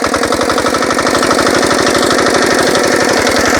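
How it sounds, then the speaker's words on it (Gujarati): A Giriraj Agro nano tractor engine runs steadily in a cotton field, a loud, close, continuous rapid chugging throb with no talk over it. "આ જે ગિરિરાજ એગ્રો ઇક્વિપમેન્ટનું જે ટ્રેક્ટર છે એ તમે આસાનીથી ઉપયોગમાં લઈ શકો છો"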